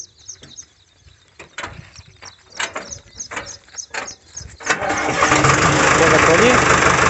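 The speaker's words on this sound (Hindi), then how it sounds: "देखो जी क्या शानदार आवाज है ट्रैक्टर," Sonalika 60hp tractor engine cranks with several sputtering turns, then catches and settles into a loud, steady idle, while people talk nearby.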